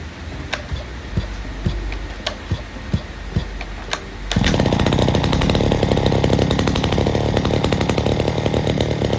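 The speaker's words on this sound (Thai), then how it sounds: "ก็มาลองเครื่องกันดูครับว่าเสียงจะเป็นยังไง อัตราเร่งจะเป็นยังไง ก็ลองฟังดูครับ" A Robin NB411 brush cutter's two-stroke engine idles with a steady ticking putter, then abruptly revs up to a loud, continuous high-pitched buzz that holds at full throttle, close by with no talking.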